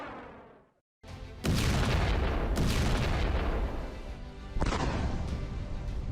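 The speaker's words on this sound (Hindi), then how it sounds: "ये इराक में हो रहे धमाकों की सबसे नई तस्वीरें हैं" Explosions in Iraq from news footage: after a brief silence, a heavy blast erupts into a sustained loud rumbling roar with crashing debris, followed by a second strong boom near the end, with no talk.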